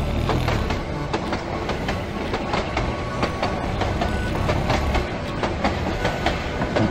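A train rumbles past in The Night of the Rabbit adventure game: a dense continuous roar with rapid clickety-clack rail beats throughout, loud and steady, with no speech.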